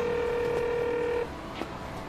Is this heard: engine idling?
no